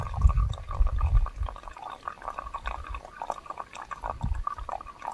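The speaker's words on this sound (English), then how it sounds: "just fill the Sawyer bag with untreated water" Untreated water pours and gurgles into a Sawyer filter bag, a continuous close trickling and splashing with low bubbling surges at the start and again near the end.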